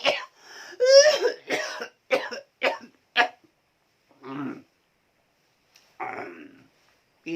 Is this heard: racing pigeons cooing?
no